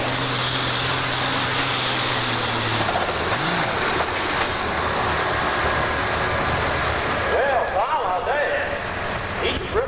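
A powerful turbocharged engine of a 1988 super stock pulling tractor, three turbochargers, roars loudly and steadily throughout, its pitch shifting as it strains, with a crowd and announcer voice mixed underneath at a state fair tractor pull.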